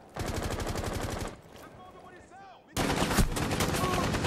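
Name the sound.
gunfire in video game Rainbow Six Siege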